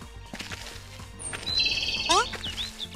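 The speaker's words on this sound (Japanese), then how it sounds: "鳥の鳴き声が聞こえるな。" Synthetic bird chirps and whistled tweets ring out in a Tennis no Oujisama dating-sim video game, a few sweeping calls over quiet background music with light game sounds.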